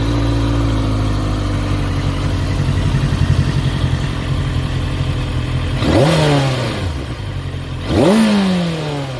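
A VOGE RR660 racing motorcycle idles loudly up close, then its throttle is twisted for two sharp revs that climb and fall back, a couple of seconds apart.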